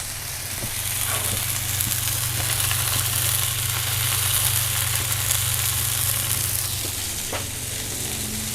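Cheeseburgers topped with yellow and white cheddar sizzle steadily on a 22-inch Blackstone griddle, a loud continuous frying hiss with a low hum beneath and a few faint scraping taps.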